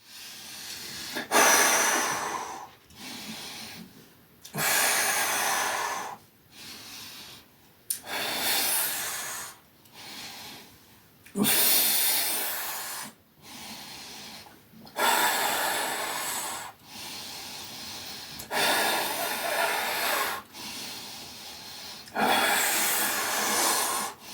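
Heavy, rasping breaths during an isokinator workout come in long bursts, each in-and-out breath loud and close, repeating in a steady effortful rhythm with brief pauses between.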